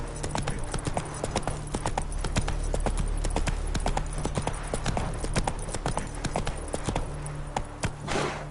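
Horse hooves gallop in The Witcher 3 video game, a fast, steady clip-clop that runs continuously and close by, with a low ambient bed underneath.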